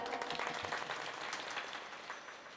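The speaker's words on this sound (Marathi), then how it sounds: "एकदा स्वतःसाठी जोरदार टाळी वाजवा." Audience clapping at a Marathi kirtan gathering, a fairly faint, dense patter of many hands that gradually tapers off, heard at a distance with no talk.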